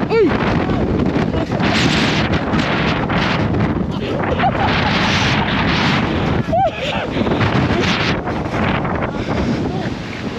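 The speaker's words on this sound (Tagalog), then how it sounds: "Ang lakas ng hangin oh." Strong wind buffets the microphone in a steady, loud roar, with excited voices talking over it throughout.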